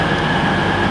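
Train pulling into the platform at Kettering station, a continuous close rumble of wheels and carriages filling the whole short moment.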